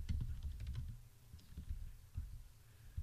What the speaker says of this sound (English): I'm typing in St. Louis here in the search bar